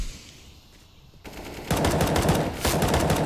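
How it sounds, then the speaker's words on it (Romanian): Video game gunfire crackles in rapid automatic bursts while a player tries for a headshot, quiet at first and then loud, close repeated shots in two volleys. "E greu să-i dai headshot acolo, Piggy."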